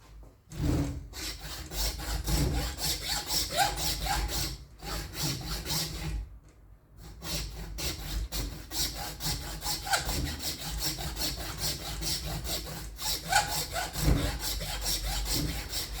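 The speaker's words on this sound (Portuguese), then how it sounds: "Eu vou começar cortando com uma serrinha de ferro mesmo." A hand hacksaw cutting through cattle horn for a knife handle, with a close, continuous rasping stroke rhythm that continues steadily apart from two brief pauses.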